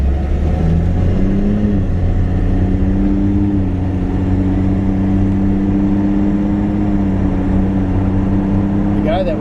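A 1981 AMC Eagle SX4 runs steadily with a low engine drone and a slight rise in pitch as it pulls away, loud and close throughout with no talking.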